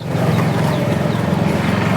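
Dense poultry noise from many native country chickens and roosters in a livestock shed, overlapping clucks and calls, steady and fairly loud throughout.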